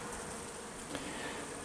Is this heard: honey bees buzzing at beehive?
yes